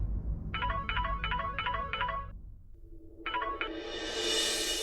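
A phone ringtone rings in a home setting, five quick repeated electronic trilling bursts, a pause, then a brighter melodic tone that swells; clear and fairly close with no talk over it.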